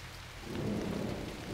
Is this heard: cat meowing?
no